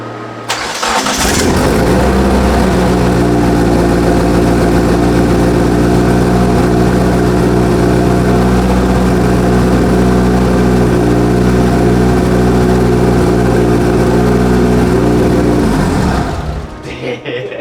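A Proton Satria SOHC 4G93 Turbo engine starts up and settles into a loud, steady idle with a deep, even rumble that runs for several seconds before cutting off.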